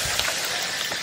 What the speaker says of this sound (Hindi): आवाज़ आ रही होगी बारिश की बहुत।